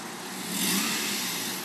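A Mazda RX-8 rotary engine revs high and held during a burnout, a loud sustained roar that swells slightly partway through, heard up close with no talk.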